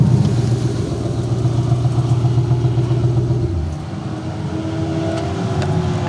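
A twin turbo Shelby GT500 roars loudly and close during a half-mile top-speed pass at Shift S3ctor Indiana, a sustained engine drone that abruptly drops in pitch and loudness partway through, then carries on lower.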